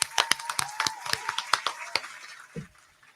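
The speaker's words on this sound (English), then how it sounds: "we're going to clap for that too" A group of people clap together in a podcast setting, a burst of sharp overlapping handclaps lasting a few seconds before trailing off, with a brief thump near the end.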